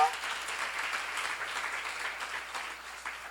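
A church congregation at a Bible seminar applauds in a steady, dense patter that fills the room from start to finish, fairly even in loudness.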